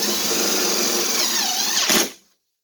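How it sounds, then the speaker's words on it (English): A power drill drives a self-tapping threaded screw into a bird bath form, whining steadily at full speed for about two seconds before spinning down abruptly and cutting off into silence. "I put a self-tapping threaded screw"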